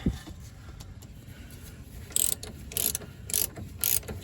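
A hand ratchet working a tie rod end loose on a classic Mercedes (W126, W124 or W123), four quick bursts of close, bright clicking in steady rhythm after a faint knock and near silence.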